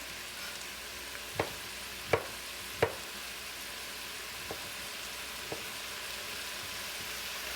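Pork fried rice being tossed and stirred in a hot pan, a steady soft sizzle with a few sharp clinks and knocks of the utensil against the pan.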